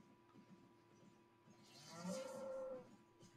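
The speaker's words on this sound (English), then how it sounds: "Moo." A cow in the game Albion Online gives a single drawn-out moo lasting under a second, fairly loud over a steady background of game ambience and music.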